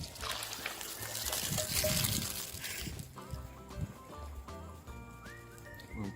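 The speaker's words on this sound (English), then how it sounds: "What we're going to do is just empty our water out." Water emptied out of a cooking pot at a camp-style kitchen while making potato wedges, a close splashing pour for about three seconds that then gives way to quieter trickles and background sounds.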